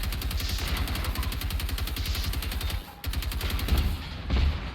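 Rapid, dense automatic gunfire and blasts from base defence turrets in the game Generation Zero, a steady loud rattling fusillade with a brief dip near the middle, no talk.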